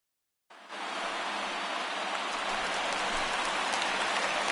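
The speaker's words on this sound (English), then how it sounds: "There is rain in the air." Steady rain hisses down at a baseball game, a dense, even wash that starts abruptly and holds loud and unbroken.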